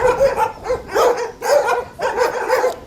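Several dogs barking repeatedly at an animal shelter housing around 150 dogs, loud, close bursts of barks and yips in an uneven rhythm with no talking.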